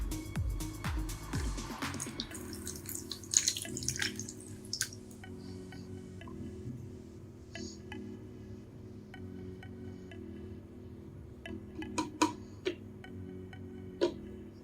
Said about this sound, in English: So I'm just going to take a cup of water and pour.